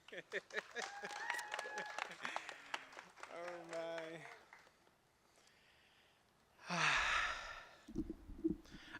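At a Pasadena Pride flag-raising ceremony, talking and a sigh give way to a short, loud burst of audience applause and cheering welcoming a speaker to the podium, then quieter scattered sounds.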